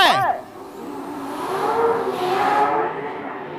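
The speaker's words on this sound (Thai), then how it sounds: "เกียร์หนึ่งออกมานี่ล้อฟรีทิ้ง" A drag race car launching in first gear with wheelspin at a Souped Up 2023 Pro 275 Class B race day: a loud engine roar and spinning tyres that rise sharply at the start, then hold steady, with a commentator talking over it.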